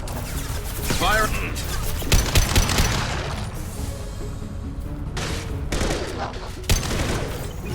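Loud bursts of sci-fi gunfire in Mass Effect 2 combat, with volleys and impacts over several seconds, mixed with game voices and effects.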